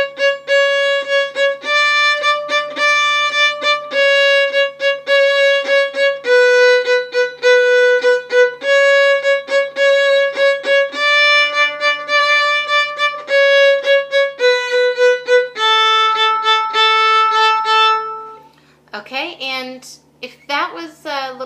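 Fiddle playing the tune Boil 'em Cabbage with shuffle bowing in a long-short-short rhythm, close and clear, with distinct repeated note strokes, ending in a few brief rougher sounds.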